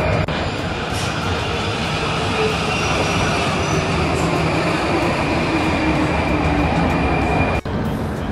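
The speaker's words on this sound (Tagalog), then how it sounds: "So, ngayon, nag-aantay na lang tayo ng train." Train at a Prague station, a loud steady rumble of wheels and carriages rolling close by with a faint high squeal throughout and a single sharp click near the end.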